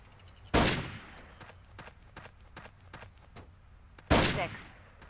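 Two loud gunshots ring out in Jurassic Park: Trespasser, a 1998 game, on the beach level, spaced about three and a half seconds apart, with quieter footsteps and rustling in between.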